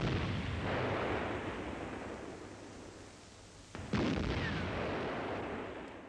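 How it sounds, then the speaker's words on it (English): Heavy artillery fire bombards the port of Dover in a 1940 WWII newsreel, a dense, continuous rumble of blasts with a sharper burst near the end and no voices. "the port of Dover was bombarded repeatedly with heavy artillery fire"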